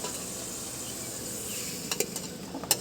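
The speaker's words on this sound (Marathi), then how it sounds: "वांगे आता परतून घेतली आपण" Brinjal (eggplant) being sautéed in a pan at an outdoor roadside cooking spot, giving a soft continuous sizzle, with a few sharp clinks of a utensil against the pan near the end.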